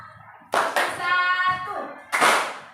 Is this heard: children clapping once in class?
yes